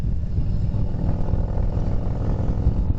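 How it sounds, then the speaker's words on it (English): A motorcycle fitted with a Cobra exhaust rumbles steadily in a low, continuous drone while cruising, close and fairly loud throughout. "I think this thing's got a Cobra exhaust on it."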